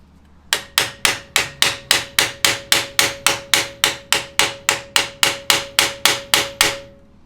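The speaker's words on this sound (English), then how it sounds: "I just smacked the crap out of it with a dead blow" A dead blow hammer knocks loose a Dana 30 axle differential cover: about twenty loud, sharp strikes land in a steady, evenly spaced rhythm, close by, with no talking.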